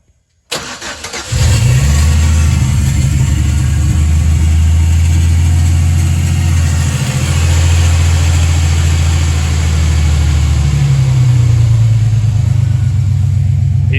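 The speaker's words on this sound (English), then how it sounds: "It turned over for 1 second and started." A Vortec 4.3 V6 truck engine with a newly installed marine intake manifold cranks for about a second, catches, and settles into a loud, steady, close idle that runs alone to the end.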